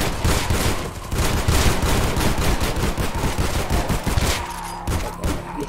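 Dense, continuous bursts of rapid gunfire fill a zombie-themed video game match, loud and sustained with almost no pause and no talk over it.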